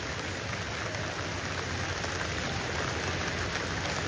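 Heavy overnight rain in Vasai-Virar city, a dense, constant roar of downpour hitting surfaces, steady and enveloping throughout with no voices.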